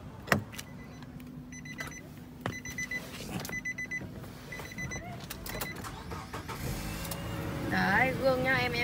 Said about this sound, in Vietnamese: gương gập điện đây